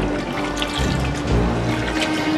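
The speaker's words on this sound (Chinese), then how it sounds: "然后现在就倒水" Water poured into a pot of thick fish marinating with white liquor and salt, a steady close splashing pour running throughout the short moment.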